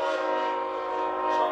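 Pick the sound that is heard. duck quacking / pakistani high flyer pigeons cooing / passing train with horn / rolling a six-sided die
passing train with horn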